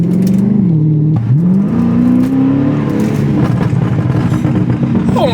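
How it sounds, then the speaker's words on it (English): A Chrysler 300 engine with a Stage 1 burble tune revs loudly and close, its deep drone rising and falling in pitch, then settling into a rougher, crackling burble at the end, with no talking. "this is the first official, I guess, POV with the brand new BURBLE tune"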